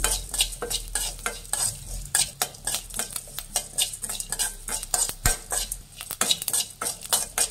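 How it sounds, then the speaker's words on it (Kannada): Mustard seeds stir-fried on low flame for Mysore-style sambar powder, a utensil scraping and clinking steadily against the pan with a faint sizzle underneath, close and busy, no voices. "ಫ್ರೈ ಮಾಡಿ ಲೋ ಫ್ಲೇಮಲ್ಲಿ ಇಟ್ಟು ಫ್ರೈ ಮಾಡಬೇಕು"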